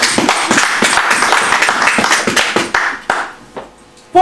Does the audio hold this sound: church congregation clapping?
yes